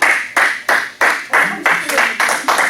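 Classroom audience at a lecture clapping in a slow, regular unison rhythm, about eight sharp loud claps spaced evenly, with faint voices underneath.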